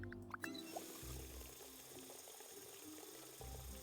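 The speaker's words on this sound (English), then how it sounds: "I like that it's like clearly a drinking sound effect for the sink." A sink runs in the Desperate Housewives video game, but the effect sounds more like gulping, drinking water than a spraying tap. It stays quiet and continuous over soft background music.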